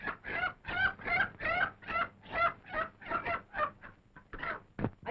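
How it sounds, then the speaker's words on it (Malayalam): A chicken clucks and squawks in rapid, excited bursts, close and fairly loud, with a brief sharper cry near the end and no voices. "അയ്യോ ഇത് എന്ത് കോഴിയാണല്ലോ കുഞ്ഞ്?"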